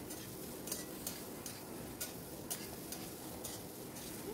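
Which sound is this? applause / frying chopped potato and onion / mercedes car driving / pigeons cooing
frying chopped potato and onion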